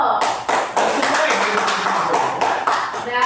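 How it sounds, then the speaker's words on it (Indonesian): Classroom applause for a student during a first teaching-practice lesson, dense clapping from many hands sustained throughout, with voices chattering underneath. "Beri aplaus buat Dito."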